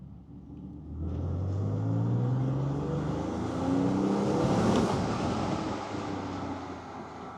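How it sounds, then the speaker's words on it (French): A Porsche 911 type 997 Carrera 4 engine re-accelerates in a strong, steady rising roar, with wind rushing past the car. No one speaks. "Ça va nous permettre d'entendre à la réaccélération le beau bruit."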